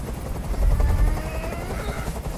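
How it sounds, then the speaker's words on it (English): Helicopter in the video game Detroit: Become Human, a close rotor whir with rapid low thumping and a droning engine tone that swells and then holds steady for a couple of seconds. "Tell that helicopter to get out of here."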